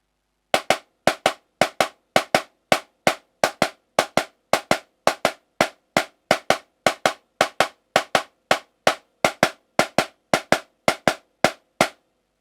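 Snare drum roll exercise mixing double and triple beats: crisp, close stick strokes in tight clusters of two and three, repeating at a steady pace with brief gaps and no talking.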